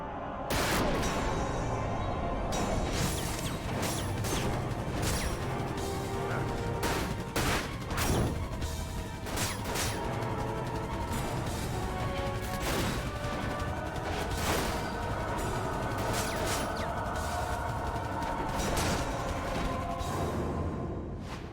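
Gunfire and explosions from the video game Dirge of Cerberus Final Fantasy VII, a dense, loud stream of shots, blasts and crashes that keeps going with no pause for about twenty seconds.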